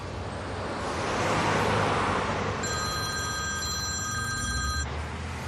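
A telephone ringing, one long electronic ring partway through, heard over a steady windy, surf-like wash of background noise with no voices.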